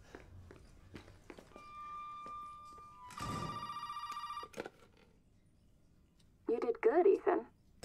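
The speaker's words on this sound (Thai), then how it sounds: "โทรศัพท์มา" A telephone rings in the horror video game Resident Evil 7, a shrill electronic bell sounding for about a second and a half over faint footsteps and game ambience, followed by a short burst of voice.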